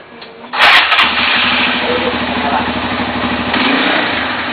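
A motorcycle fitted with an anti-theft alarm cranks with a brief starter whir. The engine catches and settles into a steady, close idle.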